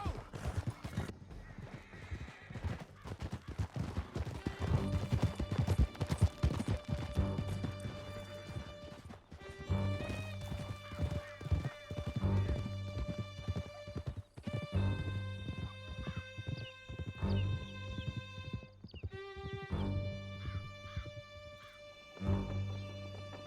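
Horses gallop through a canyon in Red Dead Redemption 2 with rapid hoofbeats, neighing and whinnying over a dense, continuous mix of game music, while voices speak intermittently.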